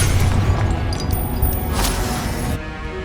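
Confringo explosive spell going off in Hogwarts Legacy, a loud, dense booming crash with a bright burst near the middle, filling the whole clip before cutting off sharply at the end.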